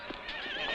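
A horse gives a short, high neigh, fairly faint and set against a busy background in a staged battle scene with armoured riders.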